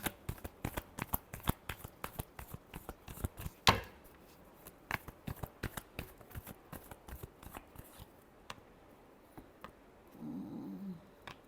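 A deck of tarot cards shuffled by hand for a reading, rapid close papery riffles and taps with one sharper slap, tapering into softer handling and a low rumble near the end, no speech.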